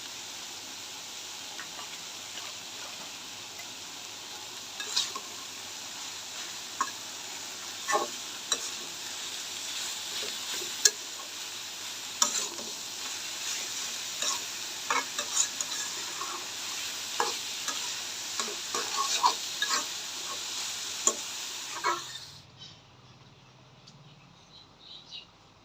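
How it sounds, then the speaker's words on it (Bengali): A spoon stirs a banana flower and spice mixture in a pan, giving soft scraping strokes at an irregular rhythm over a faint sizzle. It stops abruptly near the end, leaving quiet room tone. "মশলার সাথে ভালো করে মিশিয়ে নিব।"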